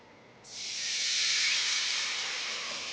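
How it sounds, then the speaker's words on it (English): Milk hitting a hot pan of drippings and flour for chicken fried steak gravy sets off a sudden loud, steady steam hiss that swells and holds, with no talking. "Now we're going to add the milk."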